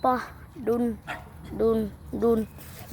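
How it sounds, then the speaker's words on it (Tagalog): Several dogs on a rural rice-farm property bark in a quick, close series of five or six loud yaps at an even rhythm. "ito po yung lahat ng aming aso"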